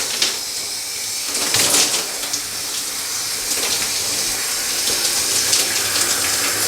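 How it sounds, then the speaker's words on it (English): Shower water runs and splashes steadily while hair is rinsed, with bursts of louder spattering as the stream hits hair and body; no talking. "So let's start rinsing this off, and then I'm going to put the conditioner on."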